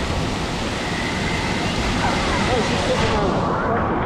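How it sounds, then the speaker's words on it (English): A big waterfall pours at an indoor water park, a steady, loud broadband rush of falling water filling the space, with faint voices in the background. "Big waterfall there. A lot of water coming out of there."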